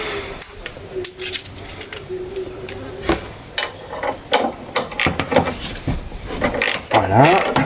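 A ratchet works on the bolts of a Dacia Duster during maintenance, giving repeated short clicking bursts at close range with clanks and rustling from handling the parts in between.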